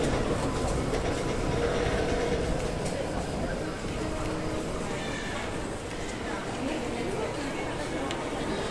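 A Singapore MRT train at Orchard station gives a steady, loud rumble and rush that fills the whole stretch, with voices murmuring underneath.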